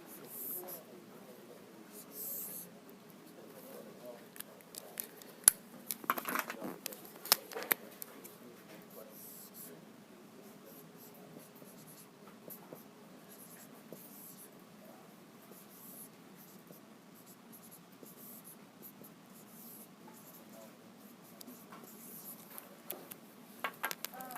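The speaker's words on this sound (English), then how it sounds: "All right, I'll write down this original matrix." Pen or marker writing out a matrix on a board during an engineering recitation, faint scratchy strokes coming in short bursts, with quiet room murmur and occasional talk in the background.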